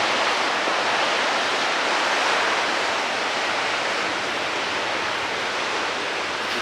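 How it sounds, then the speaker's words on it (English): Big North Sea waves breaking on the coast in April, a steady, loud roar of surf and spray rushing without pause. "The sea, the energy, the noise."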